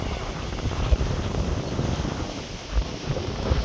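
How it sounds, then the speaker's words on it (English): Strong, gusty wind buffets the microphone at an ocean beach where fishermen are casting, producing a steady low roar with a few louder thumps of gusts; surf may be faintly mixed in. "Wind is still pumping. The wind actually picked up to 24 kilometers per hour."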